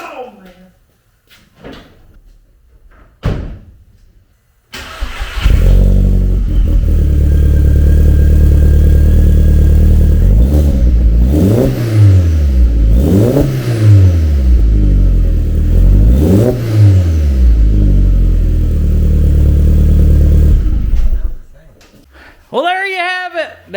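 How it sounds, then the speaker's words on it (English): A Volkswagen Jetta GLI fitted with a full MagnaFlow 3-inch mandrel-bent exhaust fires up after a few quiet knocks, then idles loudly and rises through several sharp revs before cutting off, with a brief voice at the end. "There is a full MagnaFlow 3-inch mandrel exhaust on a GLI Volkswagen Jetta."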